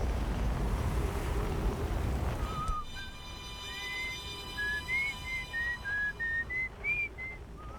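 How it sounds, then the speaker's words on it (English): A melodic whistled tune drifts through Outer Wilds as a string of clear, sliding notes. Wind and rushing air fill the first few seconds before the whistling emerges, moderately distant. "Somebody whistling?"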